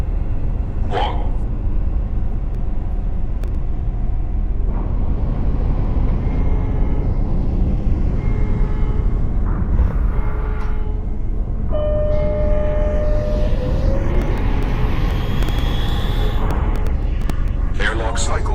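A transit vehicle in Lone Echo 2 pulls away and speeds up in zero gravity, a steady, loud, broad rumble with whooshing swells, while a voice makes announcements over it.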